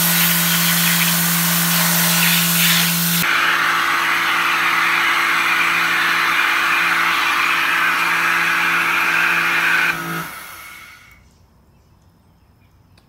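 An electric pressure washer sprays through a 3/8 inch hose with a white tip, a loud steady hiss with a motor hum that shifts partway, then cuts off and fades to quiet.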